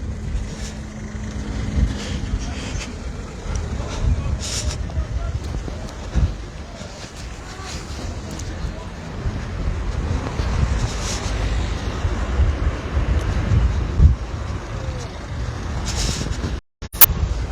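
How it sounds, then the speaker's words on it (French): Steady wind buffets the microphone with low rumbling gusts on a cold day at the stage 1 finish of the 2023 Étoile de Bessèges cycling race, and traffic passes in the background; a voice talks over it. "Il fait froid, il y a énormément de vent."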